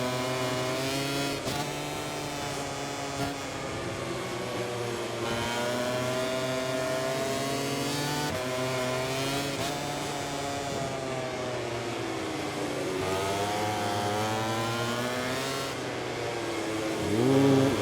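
MotoGP 24 racing motorcycles, including a KTM, at Jerez: a continuous loud engine howl that rises and falls through gear changes and passing bikes, with no talk.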